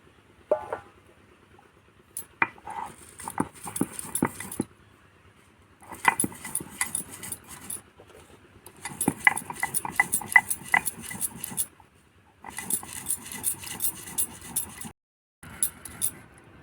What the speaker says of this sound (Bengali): জিরে আর লঙ্কাটা বেটে নেব